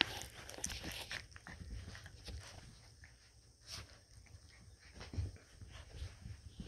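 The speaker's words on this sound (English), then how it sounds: "What are you barking at?" A 38-day-old puppy from a litter in North Pole, Alaska, gives soft yelps and whimpers amid panting and scrabbling paws, fairly close and quiet with no talking.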